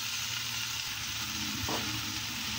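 Chopped red amaranth greens (rajgira lal bhaji) with masala sizzling in a pan, a soft, steady frying hiss with one brief stirring knock partway through.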